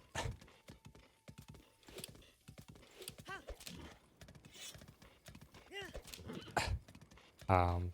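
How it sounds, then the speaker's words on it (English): Horse hooves clip-clop in the Breath of the Wild video game as a horse is ridden, with steady hoofbeats, a whinny near the end and a voice talking over the game sounds. "let's bring this horse to that lad real quick"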